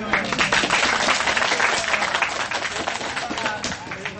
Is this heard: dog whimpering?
no